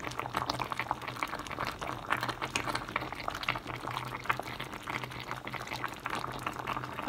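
Cassava simmering in thick bubbling sugar syrup in a pot, a steady dense crackle of small bursting bubbles throughout, close and moderately quiet, with no talking.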